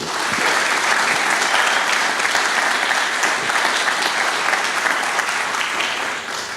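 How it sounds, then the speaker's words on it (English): An audience at a college STEM centre opening applauds the principal and staff, a dense, steady burst of clapping from a large crowd filling the room at full strength before tapering slightly at the end. "give them a nice round of applause for all they've done."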